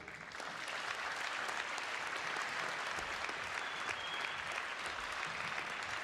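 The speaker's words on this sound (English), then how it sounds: "Another round of applause for Symphony Orchestra." Sustained, even applause from a school audience for a high school symphony orchestra, a dense steady wash of many hands clapping that swells in quickly and holds at a moderate, somewhat distant level.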